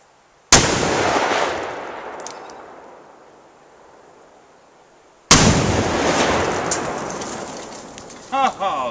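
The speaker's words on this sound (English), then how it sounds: "More exploding targets." Two loud, sharp blasts from exploding targets blowing up an old computer monitor, each a sudden boom that leaves a long rumbling tail, with a short voice near the end.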